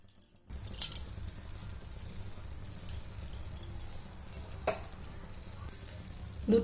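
Milk with three cardamom pods and two bay leaves heating in a pot on the stove, giving a low steady simmering hiss with a few faint metallic clinks, close and fairly quiet.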